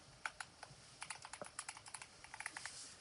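Password typed on a computer keyboard, a quick close run of light plastic key clicks in uneven bursts, quiet and alone.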